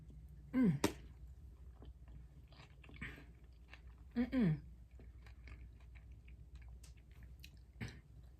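Someone eats salad up close, with a few distinct bursts of wet chewing and lip smacking separated by quiet pauses and no talking.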